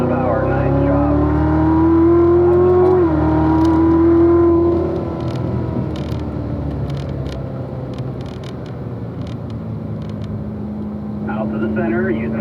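Race car exiting a track curve, engine droning and rising as the throttle comes back on, then easing into a steadier whir while a driving instructor talks over it.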